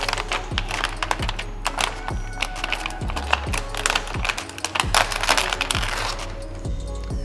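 Window tint film, hard to peel after being cut with a worn, dull plotter blade, is pulled off its liner in a string of sharp, close crackles and ticks, with soft low thumps coming at a steady pace.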